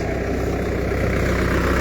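Tractor engine idling near a village riverbank in Jind district, a loud, steady low rumble with an even chugging throb throughout.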